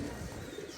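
Giribaj pigeons coo softly and low through the short moment, a faint, steady murmur with no voices over it.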